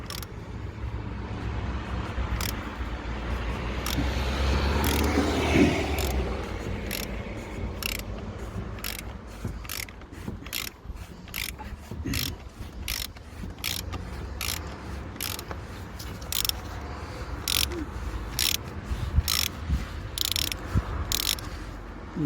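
A ratchet on an extension turns to loosen the oil drain plug on a Mercedes Vito, giving a close run of evenly spaced clicks that continues steadily over a low background hum.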